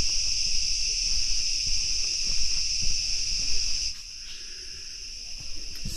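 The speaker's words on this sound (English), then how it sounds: "Some of those are like grasshoppers or whatever version they have here in Malaysia." Insects resembling grasshoppers chirp in a continuous, loud, high-pitched buzzing drone on Penang Hill in Malaysia, easing slightly partway through while faint outdoor rustles continue beneath.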